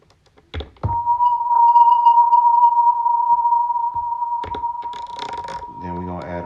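A drum hit stretched into a long sustained tone with delay and reverb, ringing steadily for several seconds with a few short clicks and thumps scattered around it.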